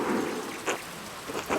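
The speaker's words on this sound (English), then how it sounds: "Seems like we have a good spring storm" A spring thunderstorm in the video game Pentiment: steady rain patters on surfaces with a low rumble, while several short bright drips or splashes stand out near and clear.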